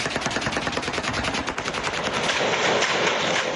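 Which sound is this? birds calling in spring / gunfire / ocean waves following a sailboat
gunfire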